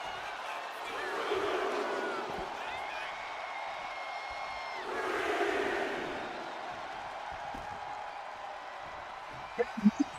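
Arena crowd noise from a WWE 2K26 wrestling match with CM Punk playing to the fans, a steady roar that swells twice, with a commentator talking over it and a few sharp thuds at the end.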